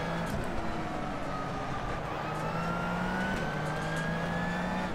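An IMSA sports car in the rFactor 2 racing game runs on the Detroit Belle Isle street circuit, its engine droning loud and close with steady rising pitch sweeps as it accelerates through the gears, with no voices.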